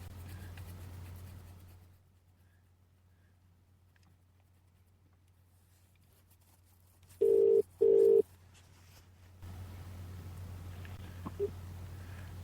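On a telephone call-back, two short, loud electronic ringback-style tone bursts sound in quick succession between a low steady hum and near-silence, with a faint click afterward.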